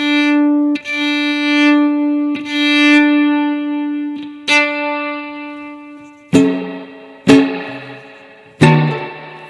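An electric violin plays through an amp IR pedal with spring reverb switched on: sustained bowed notes give way to sharp plucked or struck attacks, each leaving a ringing, decaying reverb tail.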